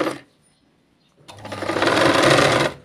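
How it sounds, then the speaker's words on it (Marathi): A sewing machine runs a close, loud burst of stitching along a katori blouse piece after a brief silent pause, with a quick rhythmic whir. "तर याला जशास तसं शिलाई मारून घ्यायची आहे।"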